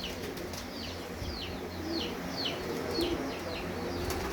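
A favourite flying pigeon beats its wings in a series of quick, regular flaps, fairly close and moderately loud over a low steady background hum, with no talking.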